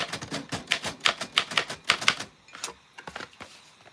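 Typing on a typewriter, a quick run of sharp, distinct key strikes in an uneven rhythm that thins out to a few scattered taps near the end, close and fairly loud.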